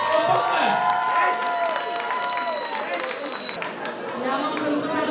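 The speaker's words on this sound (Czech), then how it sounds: "prosím o potlesk" A crowd at a charity auction in a Pilsen venue, a live Chester tribute night, claps and cheers after a winning bid, a steady burst of applause with chatter and voices mixed in throughout.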